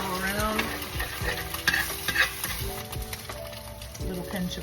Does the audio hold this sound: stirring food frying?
yes